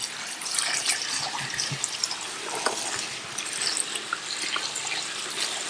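Water runs steadily from a tap into a tub of crawfish being rinsed, a continuous close splashing hiss with small drips and sloshes scattered through it.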